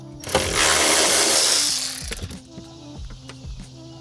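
A ratchet wrench loosens plastic 10mm bolts near the battery of a BMW 550i, a burst of quick clicking ratchet strokes up close followed by a few fainter scattered clicks.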